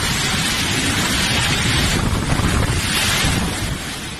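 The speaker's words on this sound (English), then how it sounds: "a thunderstorm wreaked havoc in Malaysia near Shah Alam, as heavy rain and strong winds ripped off the roofs of a hypermarket parking lot" Strong thunderstorm winds in Shah Alam, Malaysia roar continuously and loudly into the microphone, a dense buffeting rush with rain-like hiss that eases slightly at the end.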